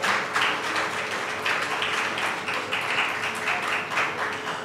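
Steady audience applause at an award ceremony in Gabon, dense and sustained with no pauses, filling the room evenly as a company president is invited up.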